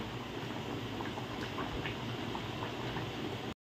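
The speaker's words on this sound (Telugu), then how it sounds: "టమాటా అయితే ఉడుకుతుంది." Tomatoes boiling in a pot of water on a home stove, a faint, steady bubbling hiss that continues alone before cutting out abruptly at the end.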